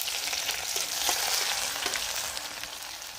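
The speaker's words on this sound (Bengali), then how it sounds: "আমি এবার এটাকে রসুন দিয়ে দেবো" Garlic frying in hot oil while giant prawns are cooked, a steady close sizzle and crackle with occasional stirring clicks, with no voices.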